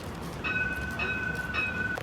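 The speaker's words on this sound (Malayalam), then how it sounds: "നമ്മൾ ട്രാം ഇറങ്ങി" Tram at a metro station, a rumbling rail-vehicle hum with three evenly spaced high electronic beeps or chimes sounding over it, close and moderately loud, with no talk.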